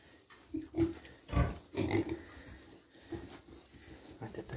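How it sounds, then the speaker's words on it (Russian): A pig grunts in several short, close bursts on a farm in cold weather, with someone speaking in Russian in between and other livestock sounds in the background. "Вот эта свинья."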